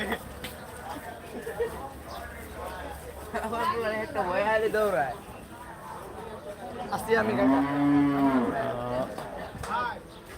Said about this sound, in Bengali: এই পাশে কিছু গরু